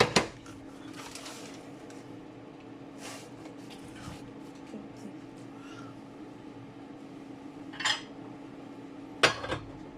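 Utensils tapping and scraping on a dish while cutting pieces of mini quiche Lorraine pastry, a few sharp clinks spread out over a quiet background with a steady low hum.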